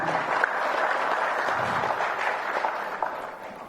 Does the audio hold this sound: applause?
yes